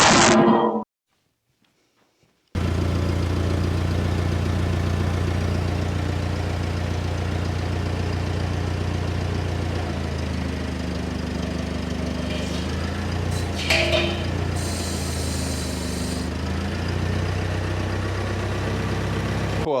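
A forklift engine starts up and runs at a steady low idle, close and continuous, while an air compressor is test lifted. The engine note shifts midway, with brief clanks and a higher mechanical whine near the end.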